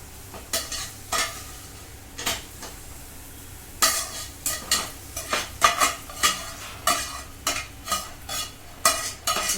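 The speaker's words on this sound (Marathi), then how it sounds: "आता आपण ही भाजी घेतली फ्राय करून, आता हे काढून घेऊ." Vegetables for veg biryani fry and sizzle in a pan while a spoon stirs them, giving a faint background sizzle broken by a run of rhythmic scraping and clinking strokes close by.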